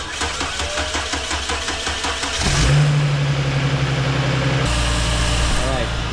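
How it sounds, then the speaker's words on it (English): A Mercedes ML350 engine cranks and catches midway, then settles into a steady idle with a low hum, heard under someone talking during a 2009-2016 alternator replacement. "we'll go ahead and start the car"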